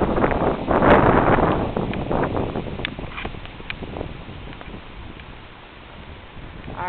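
Strong, gusty wind buffets the microphone while a kite flies at Vanderbilt Mansion; it roars loudest at first, then eases into a softer rush and swells again at the end.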